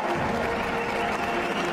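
A large outdoor crowd applauds at Donald Trump's presidential inauguration, a steady, dense wash of clapping and crowd noise that holds unbroken and fairly distant throughout.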